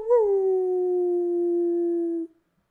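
A small dog lets out one long, clear, steady howl that holds its pitch for about two seconds and then stops abruptly, leaving silence.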